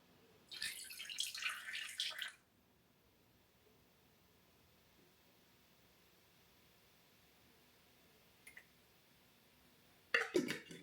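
Colloidal silver liquid is measured out for a homemade hair tonic. A brief, faint splash of pouring liquid comes near the start, a tiny tick follows later, and another short trickle comes at the end, with near silence in between.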